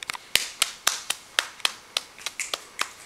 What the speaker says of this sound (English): Now you clap because it's the end.